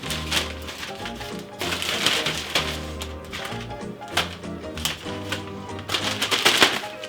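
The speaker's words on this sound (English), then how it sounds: "I'm going to be crumpling up a bunch of Oreos and sprinkling that in here" Oreo cookies crumbled by hand into a bowl, giving close, irregular crackling and crunching in scattered bursts with brief pauses and no talk.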